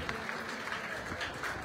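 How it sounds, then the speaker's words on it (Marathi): An audience at a BJP felicitation ceremony for meritorious students claps loudly to welcome a visiting MLA. The applause is a steady, dense patter that runs the whole time at an even level. "जरा जोरदार टाळ्या वाजवून त्यांचं या ठिकाणी स्वागत करूया"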